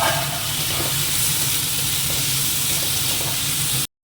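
Fish mixed with a little vinegar is tipped into a hot pan, and a dense, loud, steady sizzle and hiss of frying fills the whole moment before cutting off abruptly.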